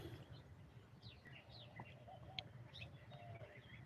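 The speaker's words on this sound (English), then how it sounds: "The tree's full of birds." Birds in a backyard tree give faint, scattered chirps and short tweets at a distance over soft outdoor ambience, with no voices.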